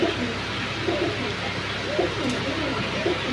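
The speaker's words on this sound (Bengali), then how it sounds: "এই হলো আরেকটা সিলভার কবুতর, জোড়া বাঘা সিলভার" Silver pigeons, a paired male and female, coo repeatedly up close, their low rolling calls rising and falling in steady rhythm against a quiet background.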